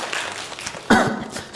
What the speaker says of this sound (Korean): 박수 한번 쳤어요.